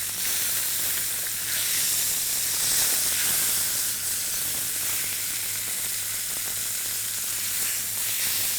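Pieces of meat searing in a very hot pan on a stovetop, a loud continuous sizzle and hiss that holds steady throughout, with occasional stirring.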